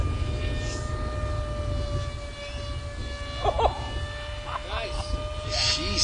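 A Multiplex Twin Jet radio-controlled airplane whines overhead with a steady high tone that rises and falls as it passes, while people talk loudly nearby.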